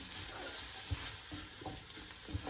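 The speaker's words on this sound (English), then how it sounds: "Give that a stir and just kind of fry that masala a bit for about a minute or so" Kashmiri masala sizzling as it fries in a pot for butter chicken, with a steady close-up hiss and a few soft knocks and scrapes from stirring, no talk.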